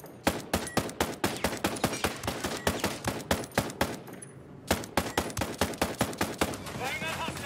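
Rapid bursts of gunfire ring out in Ghost Recon Breakpoint, loud and close, one sharp shot after another with a short lull midway before the firing resumes, while voices talk underneath.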